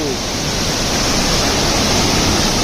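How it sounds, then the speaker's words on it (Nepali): A waterfall reached by bicycle on a rainy day roars in a loud, unbroken broadband rush that fills the whole moment, close and constant. "कति सुन्दर झरना।"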